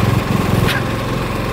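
A Solis 59PX portable generator runs with its exhaust right up against the microphone, giving a loud, buzzing, steady engine drone with a brief burst of rushing noise.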